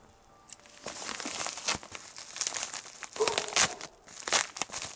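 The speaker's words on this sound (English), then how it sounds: "So we're going to open this and see what's in here." A mailed gift package from Australia is torn and unwrapped, giving close crinkling and tearing of paper and plastic in repeated bursts over about five seconds, with no one speaking.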